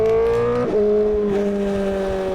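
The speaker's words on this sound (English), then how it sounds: "God, I love the way this bike sounds" Honda CBR1000RR SP1 sport motorcycle engine revving close by, a strong tonal whine that dips briefly and then settles into a steady high idle-rev drone.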